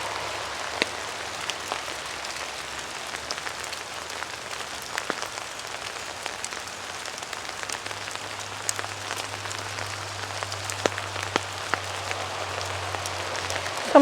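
Rain falls steadily in a forest, a soft continuous patter with scattered sharper drops striking leaves and fungi nearby, alone with no voices.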